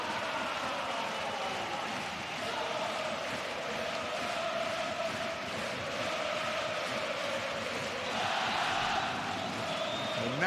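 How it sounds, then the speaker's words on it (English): Arena crowd roaring during the fourth quarter of a EuroLeague basketball game between Monaco and Barcelona, a sustained loud wall of cheering and shouts that surges again near the end, with commentary voices partly audible beneath. "Now listen to this crowd."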